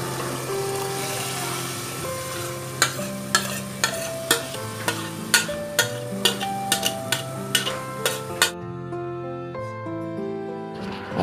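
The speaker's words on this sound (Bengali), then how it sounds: "এখন ভালোভাবে চিকেনের সাথে এই ডালটা আমি মিশিয়ে কষিয়ে নিব।" Chicken and soaked haleem dal are stirred in a frying pot, with a steady sizzle under a run of sharp, regular spoon knocks against the pot, ending with quieter frying.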